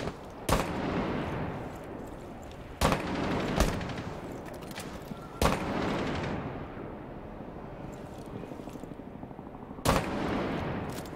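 A shotgun fires in Rainbow Six Siege: five sharp, loud blasts spaced a few seconds apart, each trailing into a rumbling room echo, with steady background game noise between shots.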